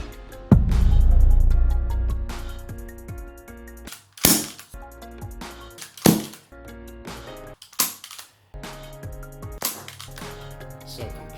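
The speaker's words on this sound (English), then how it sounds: "if I insert my silencer back on, the noise reduction will be ridiculous, and it really comes into effect when you have a BB in the gun" An airsoft MK23 pistol fitted with a silencer mod fires several sharp, fairly loud cracks spaced roughly two seconds apart, each followed by brief rattling mechanical noise, with no one talking.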